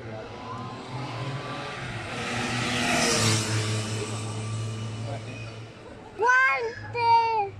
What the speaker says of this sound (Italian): Un'altra moto.